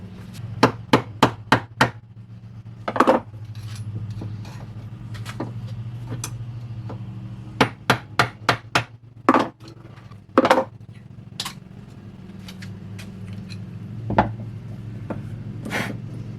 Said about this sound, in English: I may have to actually hit it with a hammer.